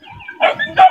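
Dogs bark loudly and close by, two or three sharp barks in under a second.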